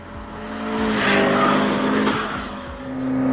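A 1200-horsepower triple-turbo McLaren supercar roars past at speed, engine note swelling loudly and fading, with a whine of tires and hiss of air.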